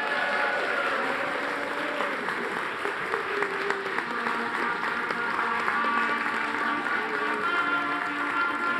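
A crowd at a live event cheers and applauds for a costumed Queen Elizabeth I, a dense, sustained wash of clapping and cheering that stays loud and steady throughout, with no clear talk standing out.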